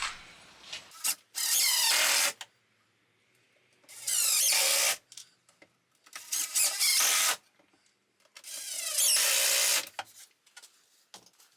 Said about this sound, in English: All I need to do is a couple of screws into the base, a couple of screws into the top